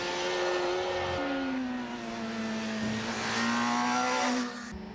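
A 2005 Kawasaki ZX6R motorcycle engine wound up hard, a loud sustained high-pitched whine that holds steady, dips slightly and climbs again before easing off.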